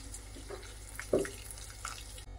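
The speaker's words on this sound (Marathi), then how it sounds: "मी टोमॅटो उकडवण्यासाठी ठेवलं होतं ते पाणी घालायचं आहे" A brief splash of water poured into a mixer jar of tomatoes for tomato curry, one short gush in an otherwise quiet moment.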